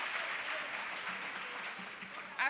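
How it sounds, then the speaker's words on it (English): Audience applause at a spoken word poetry quarter-final contest, a steady wash of clapping from a crowd that holds for the whole stretch and swells briefly near the end. "Let's clap for our contestants too."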